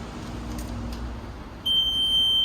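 After a low hum, a single sharp electronic beep from an electric frunk system on a 2024 Tesla Model 3 starts and holds steadily at the end, loud and close.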